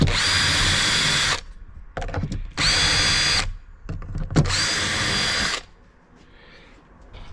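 A power drill fitted with a self-centering drill bit bores a hole, three loud sustained whirring bursts separated by short pauses, with a steady high whine through each run and no talking.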